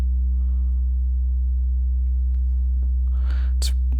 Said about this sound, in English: I'm going to put it through a filter, so it will essentially be more like a sine wave